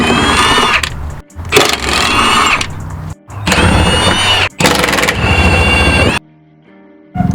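An impact wrench rattles bolts loose on a Datsun 240Z in four loud, close bursts, each lasting about a second, separated by brief gaps, then quiet.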